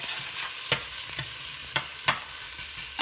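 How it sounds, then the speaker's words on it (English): Onions and peppers sizzle steadily in a hot pan, close up, with a few sharp scraping stirs of a utensil breaking through the hiss. "You hear the sizzle? Love that sizzle."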